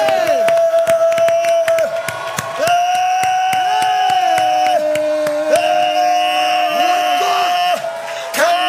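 A church congregation claps and shouts in a loud, continuous burst during worship, with sung or chanted voices ringing above the steady rhythmic clapping.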